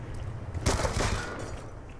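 Gunfire in the shooter Black Ops 2, a short burst of rapid shots loud in the middle over a low rumbling background, fading quickly afterward.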